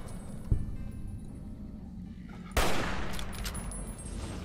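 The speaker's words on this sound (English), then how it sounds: "I'm gonna shoot it with a rifle" Rifle gunfire in Fallout: New Vegas: two sharp shot bursts, one near 0.5 s and a louder one at 2.6 s, over a steady low rumble of ambient game noise, with no talking.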